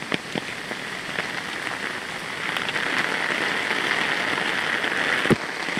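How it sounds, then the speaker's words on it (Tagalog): Steady heavy rain pours down, with scattered sharper drops tapping nearby over a dense, constant hiss. "Grabe yung ulan, guys."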